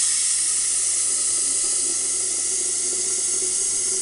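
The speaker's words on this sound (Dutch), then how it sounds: "dan moet ik wel even de waterkoker vol." Tap water pours steadily into an electric kettle in a home kitchen, making a continuous, close hissing rush over a faint low hum, without talking.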